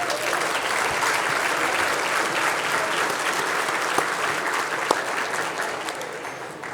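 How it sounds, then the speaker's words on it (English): Audience at a Broward Workshop State of the County event applauding local youth; steady, dense clapping fills the hall throughout, with no talk over it. "give them all a round of applause"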